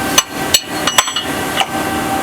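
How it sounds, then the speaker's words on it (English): A dead blow hammer taps on the gland of a welded hydraulic cylinder to loosen it, giving five separate sharp knocks at irregular intervals with quiet gaps between them and no talk. "We'll use a dead blow hammer to gently tap and loosen up the gland."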